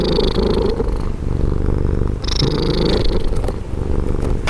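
A cat purrs loudly and very close, a continuous rumbling purr in steady breathing cycles at a Hollywood cemetery, with no voices.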